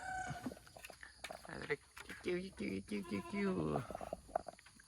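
Chickens in a backyard chicken coop at a Thai home, raised for sale, with clucking and fowl calls mixed under a man's close, steady talking throughout.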